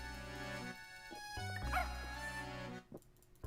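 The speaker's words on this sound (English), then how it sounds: "they changed the sound of the dog's bark to be echoey" An echoey dog bark from the Professor Layton video game sounds over background game music, reverberant and moderately loud before the music drops away near the end.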